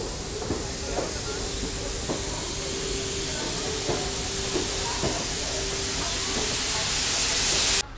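An Intercity Express train pulling out from Itarsi on the Bhopal to Jabalpur route gives a steady, loud rushing roar with a faint rhythmic clack of wheels over rail joints, heard from inside the moving train.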